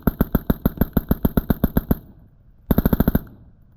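A 416 rifle fitted with a Surefire RC3 silencer fires a rapid automatic burst of about a dozen sharp, loud, evenly spaced shots. A short pause follows, then a second quick burst of around six shots.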